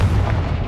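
Confringo explosive spell from Hogwarts Legacy going off as a heavy, booming blast that fills the short moment with loud low rumble, sustained rather than a single crack.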